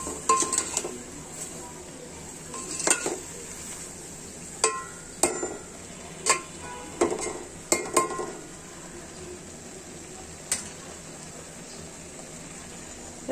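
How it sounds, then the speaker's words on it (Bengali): Beef curry with onion leaves stirred in a pot: scattered metallic clinks and scrapes of a spoon against the pot over a low steady background hiss, close by with quiet pauses between strokes. "নেড়ে দিচ্ছি, দেখুন কি নাইস হয়েছে আমার তরকারির কালারটি।"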